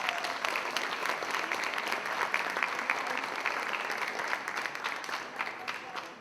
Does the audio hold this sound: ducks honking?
no